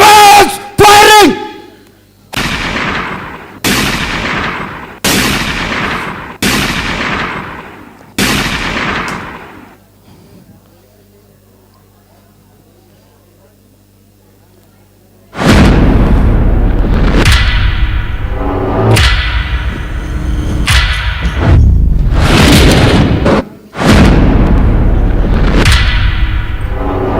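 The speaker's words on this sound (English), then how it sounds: "Soldiers! Attention! Commence firing!" Gunfire and blasts in a staged battle performance at an international fair, loud close volleys of repeated bangs, then a lull with a faint hum, followed by a dense sustained barrage of shots and booms mixed with crowd noise.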